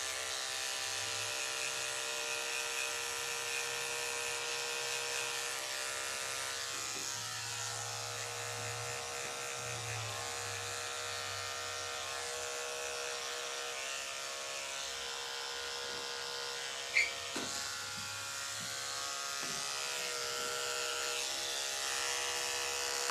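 Loud electric pet grooming clippers trimming a dog's paw pads during a grooming session, a steady high buzzing hum with a low motor drone, briefly interrupted by small bumps and clicks.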